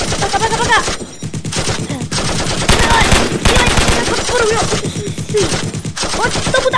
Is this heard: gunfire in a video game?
yes